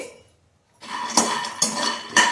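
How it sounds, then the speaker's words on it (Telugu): Peanuts dropped into a hot pan for roasting, a short silence followed by loose scraping and rattling with three sharper clatters as the nuts are stirred. "ప్యాన్ వేడైందండి, శనక్కాయ విత్తనాలు వేసుకుందామండి"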